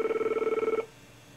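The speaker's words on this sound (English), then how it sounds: "if I shut the ringer off on this phone, you'll hear it sends a ringing signal" A Screen Machine anti-telemarketing phone device sends out its ringing signal, a rapid electronic warble pulsing steadily for under a second before cutting off into faint background hiss.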